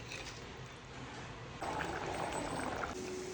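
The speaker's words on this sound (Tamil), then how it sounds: "அரை லிட்டர் தண்ணி ஊற்றி நல்லா மூடி வச்சிடலாம்" Half a litre of water pours into a pot of mutton gravy, a steady soft splashing rush that swells partway through, with no talking.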